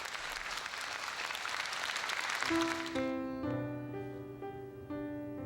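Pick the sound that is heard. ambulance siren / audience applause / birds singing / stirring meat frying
audience applause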